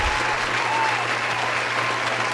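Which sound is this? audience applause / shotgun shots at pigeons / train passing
audience applause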